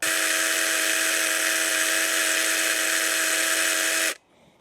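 A Volpi KVS5500 cordless battery chainsaw runs steadily at full speed during an oil feed check, giving a loud, close, even high-pitched whine that cuts off abruptly near the end.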